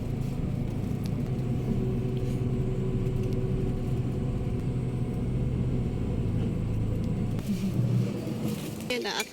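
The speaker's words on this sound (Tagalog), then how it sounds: "Nung umandar na, manghang-manghang nga kami kasi first time namin sumakay ng ganitong sasakyan." A zoo shuttle vehicle at Fukuoka Zoo in Japan rumbles steadily as it starts and climbs uphill, its mid-pitched engine droning close with a slight rise in effort near the end.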